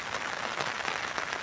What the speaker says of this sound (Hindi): और अभी तक लगातार बारिश हो ही रही है।